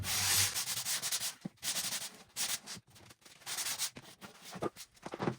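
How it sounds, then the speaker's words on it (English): Fine sandpaper rubbed by hand along the cut edge of an IKEA cabinet toe kick panel, giving close, steady rasping strokes in a quick back-and-forth rhythm with short pauses between passes. "we just take a little fine sandpaper and smooth that edge up"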